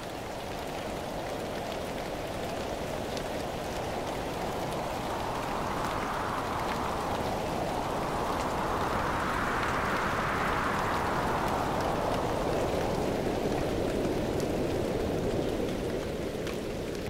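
Heavy monsoon rain pours down on India's wettest village in Maharashtra, a loud, steady roar that swells slightly in the middle and never lets up.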